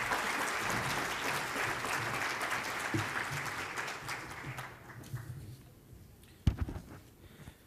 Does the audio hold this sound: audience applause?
yes